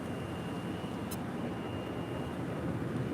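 An airliner at LAX taxis toward runway 7 left for departure, heard as a constant broad distant jet roar with a faint steady whine above it and one brief high chirp.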